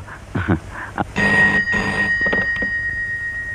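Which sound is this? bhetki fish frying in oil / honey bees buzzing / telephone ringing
telephone ringing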